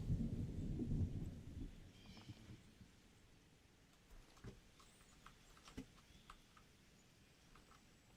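Thunder from a lightning strike in the video game Fortnite, a low rumble that is loudest at the start and then fades into quieter crackles and distant rolls.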